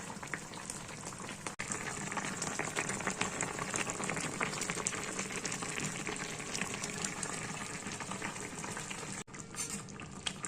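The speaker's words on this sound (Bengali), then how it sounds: "এবার আমি ঢাকা দিয়ে খানিক্ষণ এটাকে ফুটতে দেবো যাতে মাছটার ভেতর ঝোলটা ঢোকে" Fish and eggplant curry with mustard paste and kasundi bubbling steadily under a lid in a pan, a dense even simmering hiss that runs continuously for ten seconds with two brief dropouts, quiet and without any voices.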